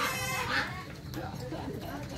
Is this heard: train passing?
no